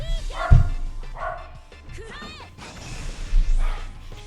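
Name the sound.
dog barking in the background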